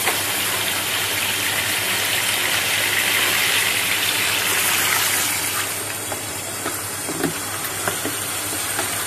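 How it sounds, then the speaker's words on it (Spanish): Water poured into a container holding wires, a steady hissing gush that runs for several seconds, then thins and trickles with small splashes toward the end. "le voy a echar un poco de agua"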